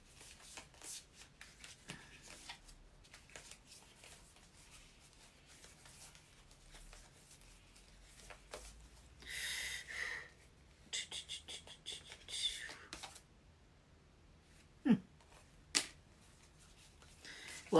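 Tarot cards being shuffled by hand in a quiet room, a long run of soft riffling and patter with a few sharper snaps and taps near the end, with no voices.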